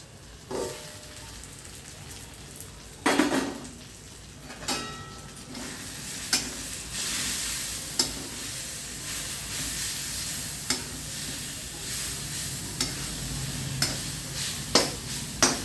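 Mint leaves fry in a pan for mint roti chutney, a continuous soft sizzle broken by repeated spatula scrapes and taps as they are stirred, close and fairly quiet with no talking.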